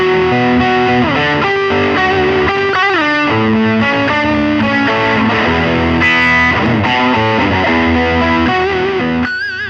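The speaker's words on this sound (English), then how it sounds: "As I run through my distortion pedal, basically check out how fat the distortion sounds are" Electric guitar on the bridge humbucker pickup played through a distortion pedal, loud and fat with sustained chords and melodic lines ringing continuously throughout.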